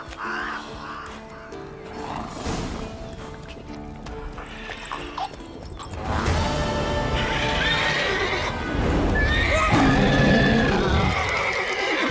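The horse Roach in the Witcher video game whinnies loudly and clearly, with hoof clip-clops and shifting game ambience around it as the sound grows fuller partway through.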